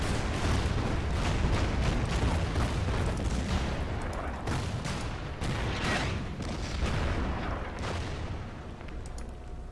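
Combat sounds from a battle against a Marine-attacked bunker in the Order of Battle strategy game set in the Marshall Islands, with dense overlapping booms and rumbling artillery-like blasts rolling continuously.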